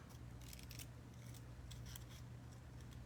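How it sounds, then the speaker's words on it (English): Scissors snipping paper while a princess journal is made, a run of quick, crisp cuts in short bursts over a steady low hum, close and fairly quiet, with no talking. "You move the paper more than you would ever move the scissors."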